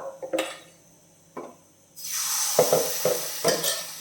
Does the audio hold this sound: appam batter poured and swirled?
yes